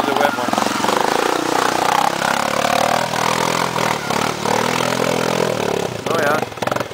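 Dirt bike engine revving hard on a wet, muddy track, a loud steady buzzing drone held near throughout with rising pitch, while people talk over it.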